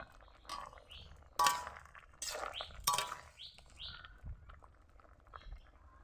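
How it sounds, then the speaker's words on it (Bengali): A lid is lifted off a cooking pot in a home kitchen while amra is boiled for pickle, giving a few sharp metallic clinks and scrapes at moderate level among quieter clattering, with no voices. "ঢাকনা তুলে নেই।"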